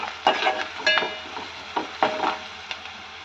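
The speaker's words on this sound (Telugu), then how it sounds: "కలపాలండి పసుపు వేసి" Spoon stirring turmeric into a tomato egg curry in a pan, with scattered scraping taps and soft sizzling, several irregular strokes close by with no talking.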